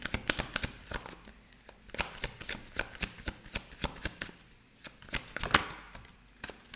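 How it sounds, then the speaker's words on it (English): Tarot cards being shuffled close up, a steady run of crisp, loud riffling bursts with brief pauses between passes, no talking over them. "let's pull you one of these cards. Sorry, that's very loud."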